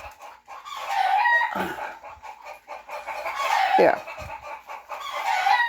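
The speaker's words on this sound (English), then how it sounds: "That noise is the hens laying eggs." Hens cluck and cackle loudly in a busy chorus while laying eggs, with a few rising squawks standing out, and a brief spoken word partway through.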